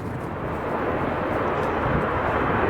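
A jet airliner departing Chicago O'Hare gives a broad, dense roar at moderate distance that swells slightly over a few seconds, with wind rumble mixed in.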